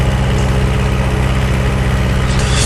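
An Ursus C-360 farm tractor idles up close with a steady, loud, low diesel thrum and a regular chugging pulse that never changes pace.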